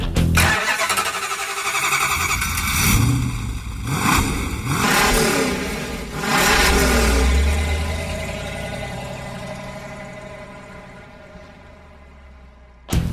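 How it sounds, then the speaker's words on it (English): A 707-horsepower supercharged Hellcat V8 in a converted Road Runner Superbird fires up and revs hard several times, loud and close, then settles into a rumbling idle that fades slightly. "we put a 707 horsepower supercharged Hellcat engine in our Superbird, and it is crazy"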